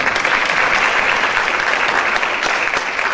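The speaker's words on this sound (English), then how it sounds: "Let's give yourselves a round of applause." Council members at a school governance council training applaud themselves in a steady, dense burst of clapping that fills the room and holds at an even level throughout.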